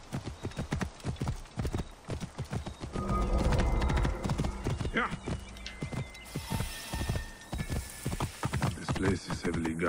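Horse hooves clip-clop in a steady galloping rhythm in Assassin's Creed Origins, loud and close, with a whinny and game sounds mixed in and someone talking over it.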